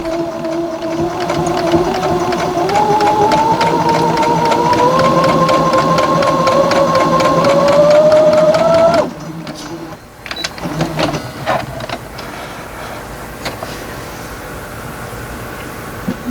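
A sewing machine stitches quilt fabric slowly, its steady rising motor whine running for about nine seconds before stopping, followed by quieter handling sounds nearby.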